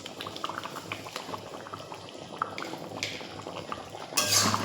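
Potato curry simmers steadily in a pot, giving a continuous soft bubbling and popping at close range that swells louder near the end.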